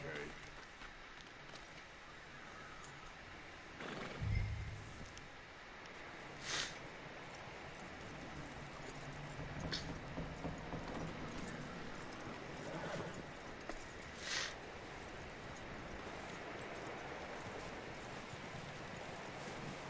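A horse in the video game Red Dead Redemption 2, with soft hoof clip-clops and a brief snort or whinny over an ambient outdoor bed, moderately quiet with occasional louder accents.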